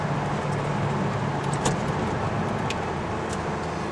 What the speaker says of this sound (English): I'm just gonna tap the gas and then hit downshift